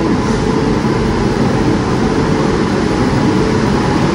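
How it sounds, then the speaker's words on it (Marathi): Steady, loud rumble of a train arriving at Dadar railway station in Mumbai, a broad continuous roar of wheels and carriages close by with no clear breaks. "इकडे दादर रेल्वे स्टेशनवर आणखीन एका ट्रेनचं अरायवल झालेलं आहे"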